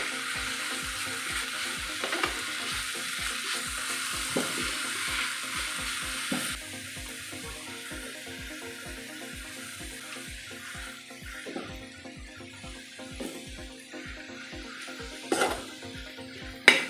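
Chopped kurdu greens frying with softened onion in a pan, a steady soft sizzle broken by regular scraping and tapping of a spatula as they are stirred, close and moderately loud.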